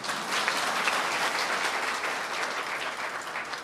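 Sustained applause from an audience at a Telangana public meeting in Sircilla, a dense steady wash of clapping lasting several seconds with no voices on top.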